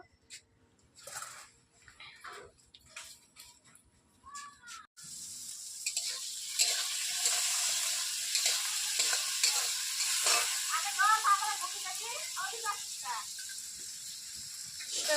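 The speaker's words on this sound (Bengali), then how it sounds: "যে আলু কাটা ভাজতে রাখছি" Quiet talk and handling noises at first, then washed potatoes hit hot oil on a stove and a strong, steady sizzle takes over, with occasional stirring.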